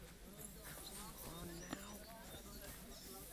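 Horse hooves clip-clopping on a road in the video game Kingdom Come Deliverance II, a quiet steady rhythm of hoofbeats under ambient game sound and someone talking over it.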